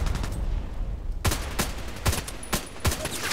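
Sharp, evenly spaced shots from an HK 417D assault rifle in a shooting game, five or six distinct cracks in quick succession over a low background hum.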